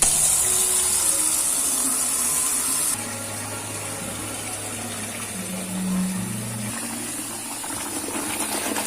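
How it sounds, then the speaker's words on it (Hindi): Surf detergent powder being stirred into water by hand, with a steady wash of running, sloshing water throughout and a brief dip in level partway through. "तो इसके लिए मैं घोल रही हूँ सर्फ।"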